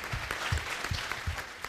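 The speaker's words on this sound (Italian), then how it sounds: "Grande applauso alle nostre amiche" An Italian TV show audience applauds a visiting sports association team, steady broadband clapping with a few heavier beats, moderately loud and with no talk over it.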